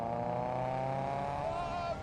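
A turbocharged car's engine in a racing video game, holding a steady, continuous droning note that rises slightly in pitch as it pulls through the rev range.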